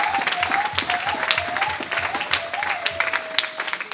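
A church congregation claps and cheers during a French-language worship service, a dense, steady wash of many hands with a sustained voice or tone running faintly beneath.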